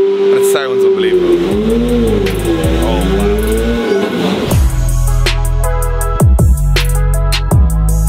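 A car that has sat unmoved for a long time starts up and is revved hard, sharp loud rev bursts rising and falling over a steady engine drone, with people talking over the engine.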